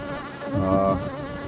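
Honey bees buzz steadily and close at the hive entrance the day after a Demaree split, a dense, continuous drone that swells briefly midway with no talk over it.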